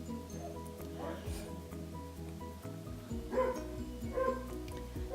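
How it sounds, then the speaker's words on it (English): Dogs bark and yip intermittently in a backyard in the background while a person talks over them. "Sorry you can hear the dogs."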